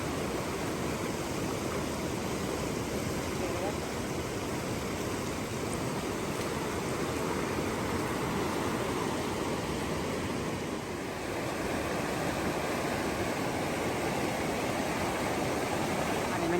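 Floodwater rushing along a village road after heavy rain in Ban Phiang, Xam Neua, Houaphanh, Laos, a constant broadband roar of flowing water, steady and fairly close, with no voices over it.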